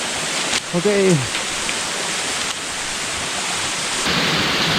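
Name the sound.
waterfall rushing near Makassar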